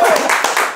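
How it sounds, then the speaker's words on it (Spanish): Short burst of hand clapping at a Venezuelan podcast taping, a few people clapping close by with voices mixed in, lasting under a second. "Por favor, un aplauso en sus casas"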